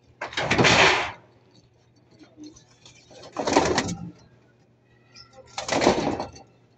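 A pigeon kept in a cage gives three low, breathy coos about two seconds apart, close and fairly loud, with a faint steady hum between them.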